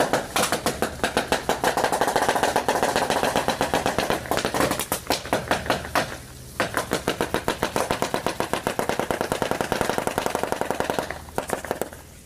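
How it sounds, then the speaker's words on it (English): A Jeep Wrangler rolls over an unrolled sheet of bubble wrap, setting off a loud, rapid, dense crackle of popping bursts like gunfire, with a brief lull in the middle before the popping resumes. "what does it sound like when a Jeep Wrangler drives over an unrolled roll of bubble wrap?"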